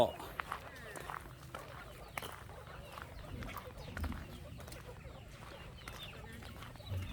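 Chickens clucking around a Thai farmyard flock of a couple hundred birds in the evening, scattered soft clucks and movement under near-constant talk.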